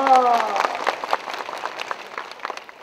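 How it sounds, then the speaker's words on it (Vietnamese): A crowd claps in a burst of applause that starts with a loud flurry and thins out, with a brief tonal voice or sound at the start. "vỗ tay cho tôi nhé"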